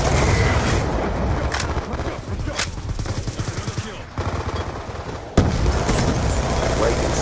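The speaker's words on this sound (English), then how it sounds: "Friendly Hellstorm missile inbound." Hellstorm missile strike in Black Ops 2 amid constant heavy battle noise, sustained gunfire and rumbling blasts throughout, with a sharp loud impact near the end; voices are faintly mixed in.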